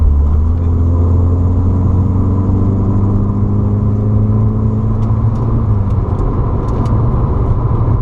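A Stage 2 tuned car engine hums steadily from inside the cabin, its pitch climbing and dropping as gears change, with a few faint clicks near the end.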